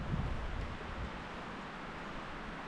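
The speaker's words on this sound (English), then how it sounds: "It is super windy" Strong wind on a Maine deer-hunting opening day roars steadily across the microphone in a dense, unbroken rush of outdoor noise with no voices.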